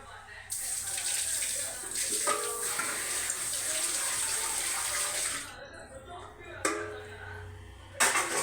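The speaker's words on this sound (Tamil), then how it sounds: "கொஞ்சம் தண்ணி ஊற்றி காய் வேகும்" Water streams steadily into a cooking pot of vegetables for several seconds, then stops, leaving a few clinks and light kitchen handling.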